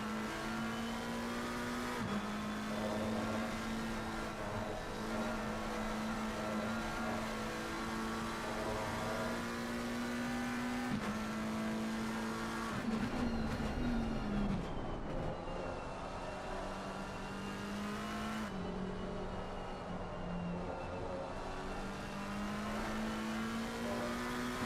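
A GT race car in Assetto Corsa Competizione at the Nürburgring powers out of a corner and climbs through the gears, the engine note rising steadily, dropping at each upshift and rising again, loud and continuous throughout.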